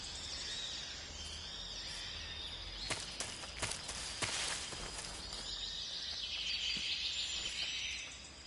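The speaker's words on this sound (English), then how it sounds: "I heard footsteps." Footsteps in the game Snake Eater, a short run of crisp taps in the middle over jungle ambience with bird chirps, fairly faint and close.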